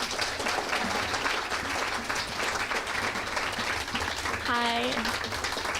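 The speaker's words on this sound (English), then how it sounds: "Big round of applause, everybody, for Serena." Audience applause for a winner at a poetry prize livestream, a steady wash of many hands clapping throughout with voices mixed in.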